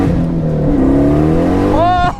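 A 700hp 2006 Pontiac Solstice engine revs loudly and close, its pitch climbing steadily and then sweeping sharply higher near the end of the pull.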